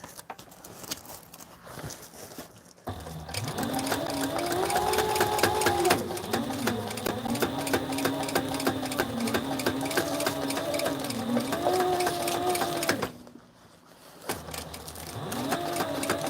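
Sewing machine stitching a repair on a flight suit, a close, fast rhythmic whir that runs steadily for about ten seconds, stops briefly, then starts again.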